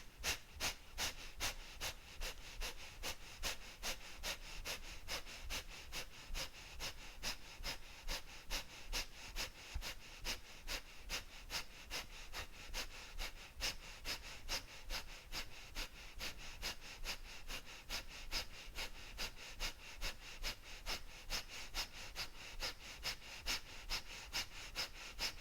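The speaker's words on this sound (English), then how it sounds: "We'll bring our breath of fire in." Breath of fire, a yoga breathing exercise, comes as rapid, evenly paced forceful exhalations through the nose, a quick steady pumping rhythm that continues without pause, close and fairly soft.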